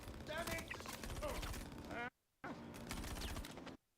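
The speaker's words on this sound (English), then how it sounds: "Yeah, that's Hurston security. He's shooting at me." Rapid gunfire from a Hurston security guard firing at the player in a sci-fi space game, loud and sustained in two long bursts split by a short silent gap, with other game sounds layered underneath.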